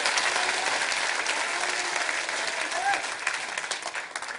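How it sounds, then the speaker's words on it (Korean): A church congregation applauds during a Friday worship service, a dense wash of steady clapping from many hands that fades slightly toward the end. "우리 하나님께 박수 영광 돌리겠습니다."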